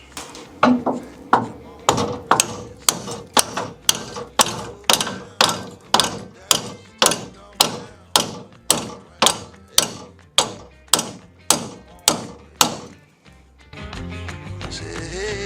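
A hammer taps steadily on the frame of a 1978 Chevrolet LUV, with about twenty sharp metallic strikes in an even rhythm. The strikes are loud and close, then stop, leaving a brief low rumble.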